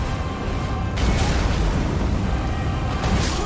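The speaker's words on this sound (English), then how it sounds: "The earth is exploding." Rumbling explosions burst from a boss attack in the video game Elden Ring, a dense, loud wall of booming blasts with a sharp surge after the first second and another near the end, no voices over it.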